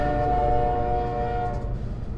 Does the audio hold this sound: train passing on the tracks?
yes